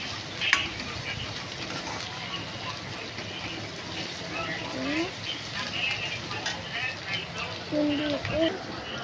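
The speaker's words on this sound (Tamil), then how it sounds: "இப்போ வெங்காயம் நல்லா வதங்கிட்டு இருக்கு." Onions sautéing in a pan for a crab dish, a low sizzle with occasional stirring clinks and scrapes, heard beneath a person talking for much of the time.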